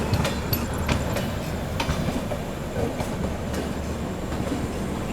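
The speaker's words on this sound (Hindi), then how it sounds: "अभी पाटलिपुत्र सुपरफास्ट एक्सप्रेस पहुंच रही है Pandit Deendayal Upadhyay junction railway station पर अपना अराइवल होता हुआ" Patliputra Superfast Express train arriving at Pandit Deen Dayal Upadhyaya Junction, a loud, steady rumble of rolling wagons with repeated clickety-clack wheel beats and metallic rail noise close by, and no voices.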